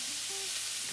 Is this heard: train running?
no